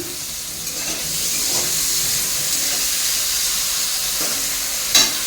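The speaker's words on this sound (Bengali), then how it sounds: "আর এই এদিকে হচ্ছে উচ্ছে ভাজার কাছে বসিয়েছি" Bitter gourd fries in a pan with a loud, even sizzle and steamy hiss, a few soft stirring sounds, and a sharp clatter just before the end.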